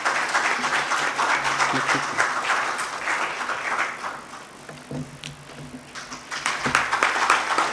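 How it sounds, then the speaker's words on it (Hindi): Audience applause honouring a guest at a workshop, dense sustained clapping that swells and dips, with a speaking voice over the clapping. "जोरदार सर के सम्मान में ताली बजा देवो।"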